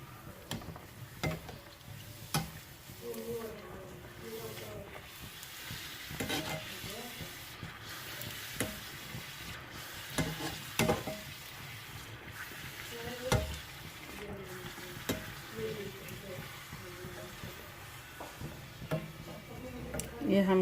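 Small golgappa puris fry in hot oil one after another, a steady busy sizzle and bubbling with occasional clinks, while someone talks over it throughout.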